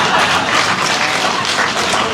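Crowd at a Perikatan Nasional political rally in Sungai Besar applauds in a loud, sustained wash of clapping that stays even from start to finish, with no speech over it.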